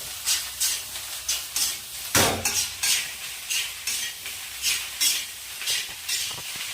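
Egg fried rice is stirred briskly in a hot pan, with rhythmic scraping strokes repeating about twice a second over a constant sizzle, close and fairly loud.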